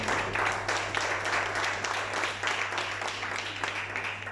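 A church congregation claps together in a steady, dense round of applause, evenly sustained throughout with a low hum beneath it.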